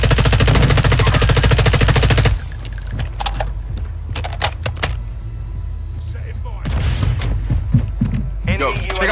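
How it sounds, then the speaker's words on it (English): Video game gunfire on Vondel and Ashika Island, with rapid automatic bursts and scattered sharp shots amid busy game noise, loud and close at first, then intermittent cracks. "I'm getting shot from the other side."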